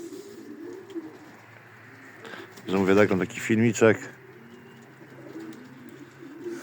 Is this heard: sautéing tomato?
no